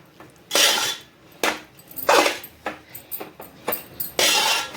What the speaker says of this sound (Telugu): పెట్టుకున్న మామిడికాయ ఉంది కదా, అది కొంచెం లైట్గా రైస్లో వేసుకొని కలుపుకోవాలి